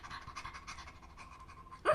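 A person imitates a dog panting, quick rhythmic breathy huffs repeated steadily and fairly quietly for about two seconds, ending in a brief louder vocal burst.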